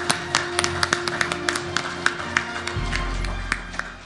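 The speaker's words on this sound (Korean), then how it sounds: "다 같이 박수로 환영해주십시오." A crowd at a World Korean Day ceremony applauds steadily, a dense wash of clapping with sharp individual claps standing out, moderately loud, with a low rumble joining near the end.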